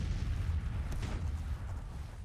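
Union artillery fires from across a creek in the Grand Tactician Civil War strategy game. A single muffled cannon boom sounds faint and distant over a low, continuous battlefield rumble.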